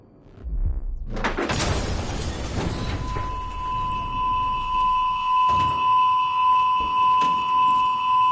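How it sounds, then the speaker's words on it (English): A building alarm in Detroit: Become Human rings continuously and loudly, a steady electronic tone held for several seconds after a burst of noise, with no talking over it. "We didn't deactivate the alarm."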